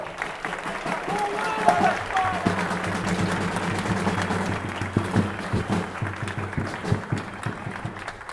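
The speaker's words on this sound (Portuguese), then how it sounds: "grande atuação de palmas para o nosso querido Apolo." A crowd at a political speech applauds Apolo with scattered, sustained clapping beneath a speaking voice, the claps growing more distinct toward the end.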